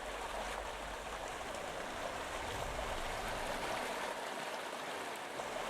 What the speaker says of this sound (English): We're back to the loud water.